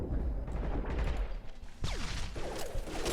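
Submachine-gun fire from the video game Mass Effect 2 crackles in quick bursts amid game effects and a whooshing sweep, fairly faint under a busy mix.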